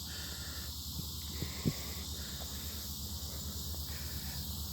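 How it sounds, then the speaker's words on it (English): Crickets and locusts chirp by a lake in a continuous pulsing trill, rising and falling in regular bursts, outdoors and fairly faint, with a brief knock partway through. "I hear crickets and locusts"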